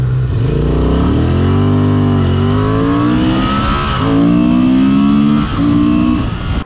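A Honda Transalp 750 motorcycle engine revs up loudly and close, its pitch climbing through several gear changes with a brief dip near the end.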